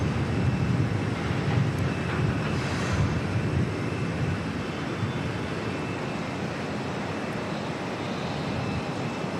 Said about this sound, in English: ATR coming in from Napier, and then we should see the American Airlines 787 heading out.